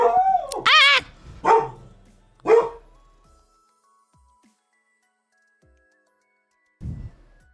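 Dogs bark in three or four sharp, separate yips and barks close by. A long quiet gap comes before one last softer bark.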